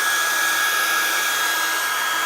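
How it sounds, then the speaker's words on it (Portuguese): A hair dryer blows hot air to heat a piston setup in a thermology experiment, a loud, steady whooshing roar with an even motor whine that holds throughout. "Então vou fornecer energia agora através de um secador de cabelo"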